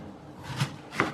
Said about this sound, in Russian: И теперь режу овощи. Режу цукини произвольными такими кубиками.